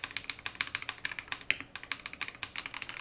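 A Royal Kludge RK84 mechanical keyboard with stock stabilizers is typed on at a quick, even pace, giving close, crisp clicky keystrokes with one louder thock near the middle.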